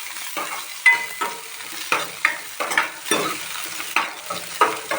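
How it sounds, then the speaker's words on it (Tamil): Onions sizzling and frying in a pan for sambar, with repeated stirring scrapes every half second or so, close and clear, no talking. "ஆனியன் நல்லா ஃப்ரை ஆகிடுச்சு"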